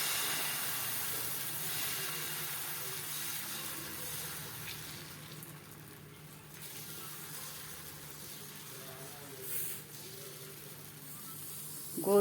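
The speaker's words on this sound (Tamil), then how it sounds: "இப்போ நம்ம தோசை ஊற்றிடலாம்" Wheat flour dosa batter sizzling on a hot griddle, a steady soft hiss holding through the whole stretch with slight swells, fairly close and without any talk.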